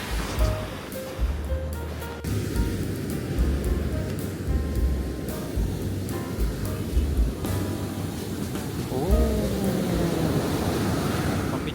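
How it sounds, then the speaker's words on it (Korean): Powerful surf rumbling and crashing continuously, with heavy wind buffeting the microphone throughout. "장난 아니다 엄청 세다 파도가"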